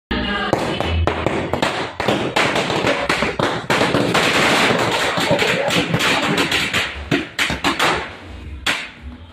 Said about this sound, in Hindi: ये भी जलाने लगे थे बड़े बड़े बम